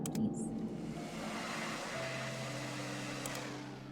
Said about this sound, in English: Use the air blowgun.